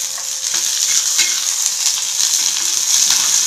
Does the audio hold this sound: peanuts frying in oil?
yes